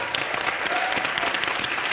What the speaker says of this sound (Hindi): आपकी मॉम रति जी के लिए एक बार जोरदार तालियां हो जाएं